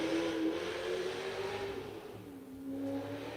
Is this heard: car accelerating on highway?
yes